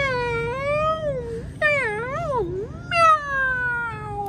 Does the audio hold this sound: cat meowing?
yes